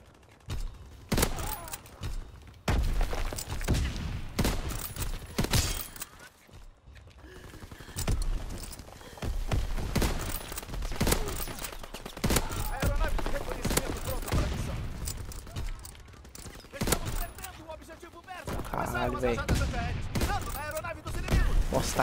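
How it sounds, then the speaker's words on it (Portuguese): Grenade blasts and gunfire rattle through an online shooter match, bursts of shots and heavy impacts coming in irregular clusters, loud and close with a voice talking over parts of it. "Nossa, tacaram umas 40 granadas em mim."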